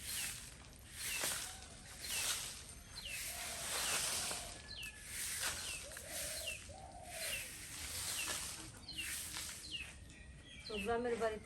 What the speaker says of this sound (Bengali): সকালে কি সুন্দর ঘুঘু পাখিগুলো ডাকতেছে না?